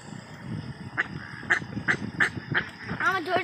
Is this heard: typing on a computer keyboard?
no